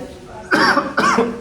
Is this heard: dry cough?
yes